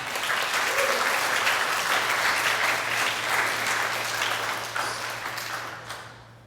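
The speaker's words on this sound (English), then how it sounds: "Yeah, we can give him a hand clap." Crowd at an outdoor rally for Asian American history education gives a round of hand clapping, a dense steady burst of applause that holds for several seconds and then tapers off near the end.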